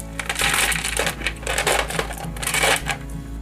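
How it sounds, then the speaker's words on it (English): A druzy crystal cluster is struck and crumbles apart, giving a dense run of sharp, crunching cracks and small tinkling fragments over about three seconds, close and fairly loud with no voices. "Again, gonna hit it and see how it just crumbles up."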